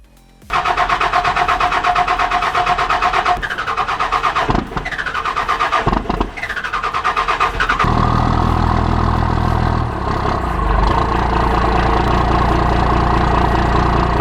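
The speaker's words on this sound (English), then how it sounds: "Cold starts on these older Cummins rigs always put on a show regardless of whatever happens to be nearby." An older Cummins diesel truck cold-starts in icy winter conditions, cranking through a few loud bursts before catching and settling into a steady, heavy idle that runs close and continuous to the end.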